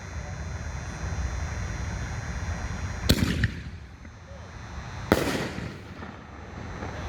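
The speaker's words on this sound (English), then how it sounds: "This is the Willow shell. Willow effect." Two sharp bursts from 5-inch Willow effect firework shells, Raging Bull by Mad Ox, boom out at about three and five seconds, each trailing a crackling decay over steady outdoor background noise.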